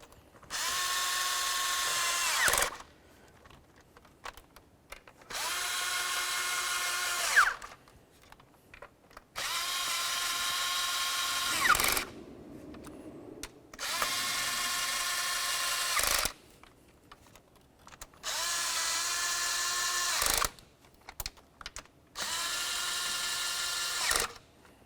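Power tool running down the ignition coil bolts on a 2006-12 Ford Fusion: six evenly spaced whirring bursts of about two to three seconds each, separated by short pauses, close and steady with no talk.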